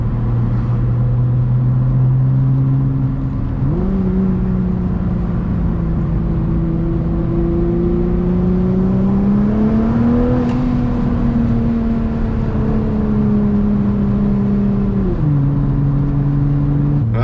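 A 750-horsepower 2017 Nissan GT-R running on E85 drones steadily, its pitch stepping up and easing back as it revs, loud and close with no talking.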